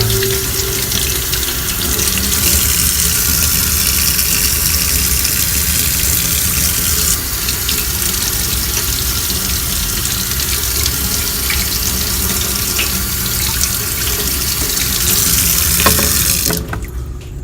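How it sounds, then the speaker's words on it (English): Tap water runs steadily for about seventeen seconds, rinsing a refinished carbon fiber part, a loud continuous splashing hiss with no talking, cutting off near the end. "you're just going to rinse it off with some water"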